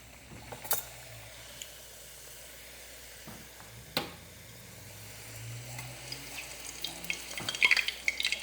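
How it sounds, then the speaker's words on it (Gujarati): Pakvan dough dropped into hot oil for frying, a quiet bubbling sizzle with a few sharp clinks and taps, the frying getting busier and crackling toward the end. "હવે એકાદું તરવા નાખીએ, જોઈએ જેવો થાય."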